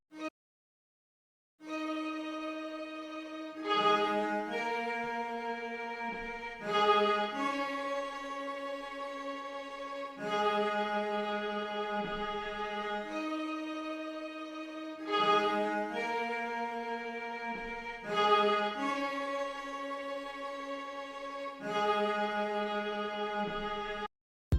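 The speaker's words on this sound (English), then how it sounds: "I added a first violin tremolo as well as a solo cello from Sonatina Orchestra to give it that extra character" An R&B soul sample plays a slow, sustained chord progression with first violin tremolo and solo cello from a sample orchestra library, chords changing every few seconds, clear and alone with no voices.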